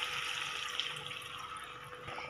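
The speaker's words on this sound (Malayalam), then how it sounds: "ഇനി 2 കപ്പ് വെള്ളമാണ് ഞാൻ ഒഴിക്കുന്നത്." Two cups of water pour into a pan of chicken, a soft, continuous splashing and trickling, faint and close.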